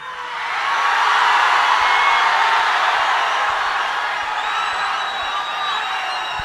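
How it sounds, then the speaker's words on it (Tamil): A dense, steady roar of applause and cheering rises from an audience at a film interview event with Kamal Haasan, Sivakarthikeyan and Sai Pallavi. The sound swells quickly and holds loud for several seconds. "நன்றி உங்களோட அன்புக்கும் கரகோஷத்துக்கும்"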